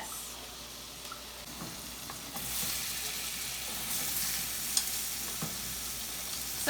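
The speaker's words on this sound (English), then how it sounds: "So tonight our stir fry is just veggies" Vegetable stir fry sizzles steadily in a hot cast iron pan, a dense continuous frying hiss with a few sharp crackles and pops, growing slightly louder midway.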